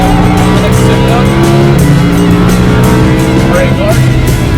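A Lamborghini Huracan's engine roars loudly and steadily on track, its pitch stepping through gear changes, with someone talking over it.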